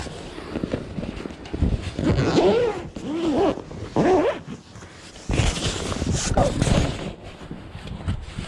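A saddle being packed into its case after untacking a pony, with a long zipper run and scraping, rustling fabric, close up and fairly loud, with brief pauses between pulls.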